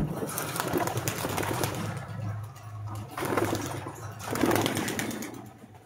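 Racing pigeons coo in a low, repeated murmur at a loft, the soft throaty calls rising and falling in several waves over steady background noise.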